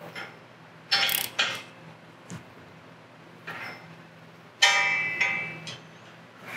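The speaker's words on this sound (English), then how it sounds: "you might need to tighten this nut up a little more or loosen it up" A castle nut is tightened on a spindle while a swing-away tire carrier is installed. Separate bursts of close metallic ratcheting and scraping come between quiet gaps.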